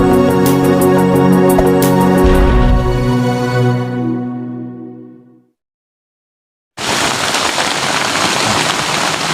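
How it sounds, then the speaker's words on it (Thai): Steady dense rain falls during an outdoor meal of clear Mama noodle soup, filling the second half loudly and evenly after a stretch of music that fades into a brief silence. "อยู่ท่ามกลางสายฝนนะครับ"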